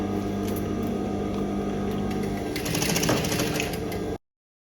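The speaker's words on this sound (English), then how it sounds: "You can also just stitch your strap underneath." A sewing machine stitches a faux leather strap with a thick size 18 needle, a steady rapid mechanical whirring that runs continuously for about four seconds and then cuts off abruptly, with no talking.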